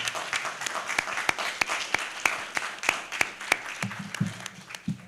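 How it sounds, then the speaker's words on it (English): A room full of people applauds debaters, steady dense clapping with sharp individual claps standing out, sustained throughout with a faint murmur near the end. "I think we should begin by giving these very strident and strong debaters a strong round of applause."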